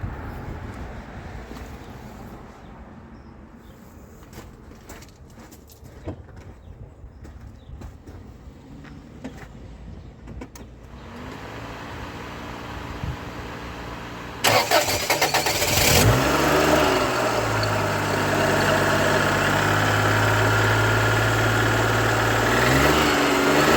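A 1989 Daihatsu Charade with its hood open: quiet handling noises, a brief engine crank, then the small engine catches and settles into a loud, steady idle that runs to the end.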